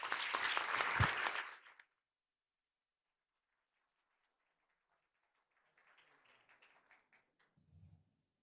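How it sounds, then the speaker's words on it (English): Applause from a conference audience at a nuclear nonproliferation meeting, a dense burst of clapping that stops abruptly after under two seconds, followed by silence and faint distant murmuring. "I'll conclude with a big round of applause this morning's successful session"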